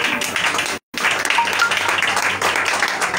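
A church congregation applauding in praise during a French-language worship service: dense, steady clapping from many hands throughout, broken by one brief silent gap.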